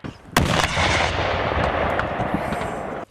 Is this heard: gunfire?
yes